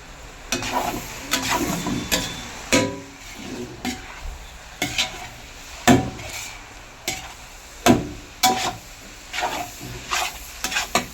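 Cluster beans sizzle steadily in a pan at a roadside dhaba while a utensil stirs and scrapes against the metal in irregular bursts, close and fairly loud.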